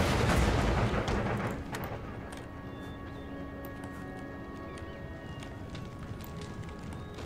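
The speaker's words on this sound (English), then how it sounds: "Comes the unit, regiment of horse." Galloping cavalry hooves in the video game Empire: Total War rumble through a dense battle din, with a heavy burst at the start settling into a steady, crowded roar of distant gunfire.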